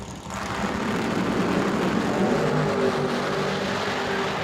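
A 1958 Corvette making a drag race run at an outlaw drag racing event, a loud sustained roar of racing engine noise that holds steady and strong from start to finish.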